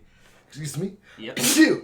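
A person sneezes once, a short sharp burst close to the microphone, with casual talk just before it in a relaxed tabletop game session.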